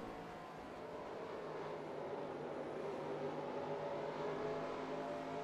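A race car engine drones steadily at a constant high pitch during an Xfinity race in the NR2003 racing game, heard as a smooth, sustained hum with no talk.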